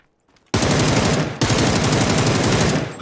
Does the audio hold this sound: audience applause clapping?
no